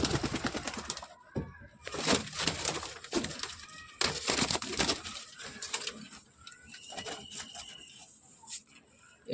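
Domestic pigeons at a home loft, including a Fulshira pigeon, give soft coos and calls amid wing rustles and handling noises, close by and moderately loud, with scattered bursts of activity.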